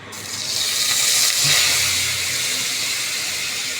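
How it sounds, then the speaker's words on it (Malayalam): Ground gravy paste goes into a hot pan and sizzles, a loud, close hiss that swells within the first second and then holds steady without fading. "ഇനിയിപ്പോൾ ഞാൻ ആഡ് ചെയ്യുന്നത് ഈ അരച്ച ഗ്രേവി."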